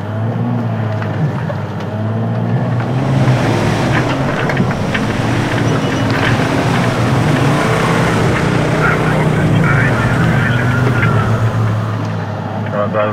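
A vehicle engine revs and strains at high throttle, a loud sustained drone with shifting pitch, and voices speak over it.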